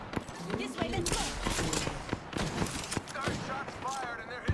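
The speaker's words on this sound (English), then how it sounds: "Gunshots fired and they're hitting me!" Rapid bursts of gunfire in Apex Legends crackle in quick succession, loud and dense, with sharp shots overlapping throughout.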